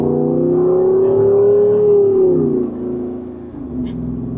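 A Jeep Wrangler 392 with its Hemi V8 pulls hard from second gear, a loud, close engine drone rising steadily in pitch for about two seconds before easing off and settling into a lower, even cruise.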